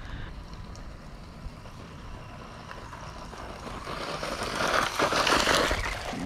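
WLtoys 144001 RC car tearing across loose gravel at full throttle, a steady rough hiss of motor and crunching stones that swells louder toward the end, moderately close with no talking.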